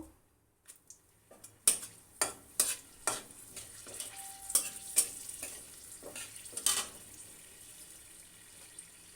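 Dried red chillies frying in mustard oil for tempering, a faint sizzle broken by a string of sharp clacking stirs and scrapes in the pan, close and irregular.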